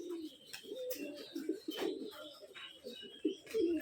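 Giribaj tumbler pigeons coo in soft, repeated low throaty bursts at close range, with wing flutters and rustling around them, fairly quiet overall and no talk over the calls.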